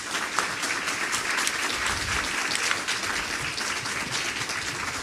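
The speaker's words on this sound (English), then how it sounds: "Please give the candidates a round of applause." Audience applause for mayoral candidates at a candidate forum held in a church in Jackson, Mississippi, steady dense clapping from a sizeable crowd filling the room at an even level throughout.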